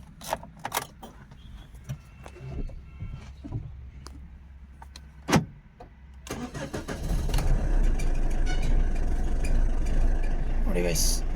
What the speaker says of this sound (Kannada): ಇದು ಇಂಜಿನ್ ಸ್ಟಾರ್ಟ್ ಮಾಡ್ತೀನಿ